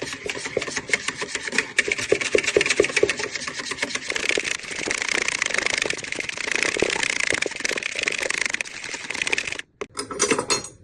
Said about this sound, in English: Give these a good whisk.